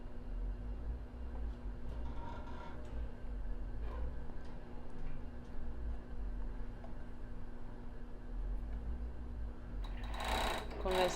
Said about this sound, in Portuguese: E agora eu vou costurar esse ladinho da costura aqui no lado da frente.